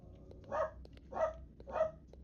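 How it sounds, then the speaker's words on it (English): Three sharp dog barks spaced about half a second apart, fairly close and alone over a low background hum, from startled household dogs in a tense indoor setting. "I just freaked my dogs out because I jumped."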